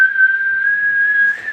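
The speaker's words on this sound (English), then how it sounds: "That's me trying to whistle." A person whistles one steady, high, sustained note lasting over a second at close range, clear and fairly loud, with a slight wavering toward the end and no talking.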